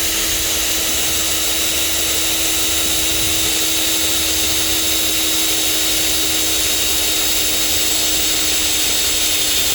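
A drill whines steadily and loudly for the whole stretch, a continuous high hum with no pauses, as it bores holes into the trunk lid of a 2019 Nissan Versa to fit a spoiler.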